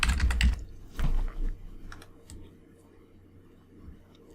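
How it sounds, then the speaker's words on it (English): Computer keyboard typing in quick bursts of clicky keystrokes, loud at first, then pausing and picking up again with sparser, fainter taps, no talking over it. "For now, I'm just going to type in the word mushroom."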